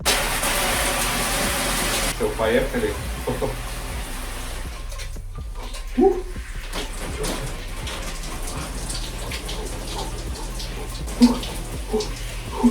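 Cold shower turned on and running, a steady broadband spray of water hissing continuously, with small clatters and knocks near the person standing under it.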